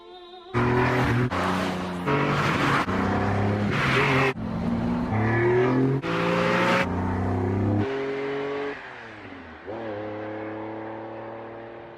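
A supercar drives along an empty road on a summer's day, its engine droning loud and steady in several long revving surges broken by gear-change gaps, then easing off into a lower, fading tone near the end.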